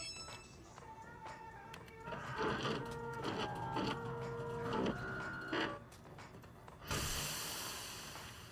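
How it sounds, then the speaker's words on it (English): A 3D printer running in the Watch Dogs 2 video game, a steady mechanical whirring with rhythmic stepper-motor tones that swell and repeat over several seconds, ending in a brief hiss. "3D printer."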